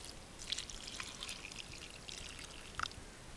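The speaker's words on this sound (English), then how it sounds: "I'm going to pour the rest of the water in here" Water poured from a container into another vessel at a canoe campsite in Algonquin Park, Canada, a faint trickling and splashing with a few brief brighter drips, quiet and close.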